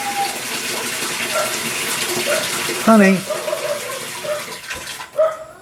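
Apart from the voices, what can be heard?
toilet flushing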